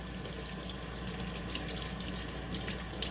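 Steady running water from a tap, a continuous hiss and splash that goes on uninterrupted for the whole stretch.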